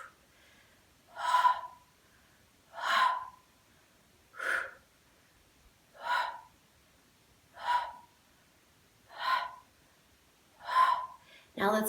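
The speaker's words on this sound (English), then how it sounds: "Let's add in the breathing." Slow, deliberate breaths during a core exercise for diastasis recti, seven evenly spaced audible exhales or breath cycles, close and clear against a quiet room.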